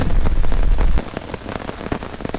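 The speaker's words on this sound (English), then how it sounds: "It's been raining pretty good for the last 2 hours." Rain patters densely on a taut tarp overhead at a wilderness camp, with a heavy rumble at first easing into distinct close drops tapping the surface.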